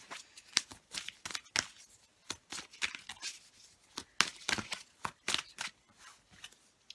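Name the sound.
shuffling tarot cards for a reading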